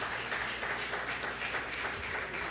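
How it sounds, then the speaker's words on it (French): A church congregation applauds, a brief burst of steady, dense clapping at moderate volume with no voices over it. "Applaudissez s'il vous plaît."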